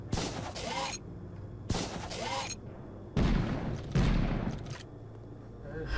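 Gunfire from the Evil Dead Regeneration video game, a pair of sharp blasts followed by two heavier booming shots, each with a ringing decay, loud and close over a low game backdrop.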